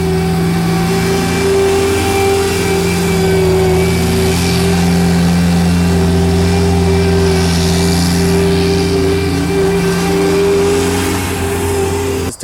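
Mudd-Ox hydraulic tracked vehicle with its engine running steadily as the machine creeps forward, a loud continuous mechanical drone with a strong low hum throughout, no talking.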